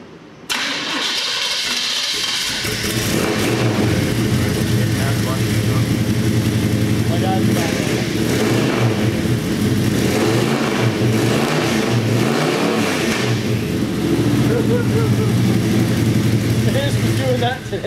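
An engine with a fuel leak and air in its fuel catches and settles into a loud, close, uneven rumbling idle that runs continuously, with someone speaking over it.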